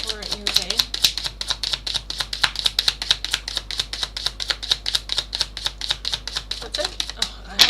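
Tarot cards being shuffled give rapid, crisp clicking riffles that repeat steadily and closely, with a voice speaking faintly at the start.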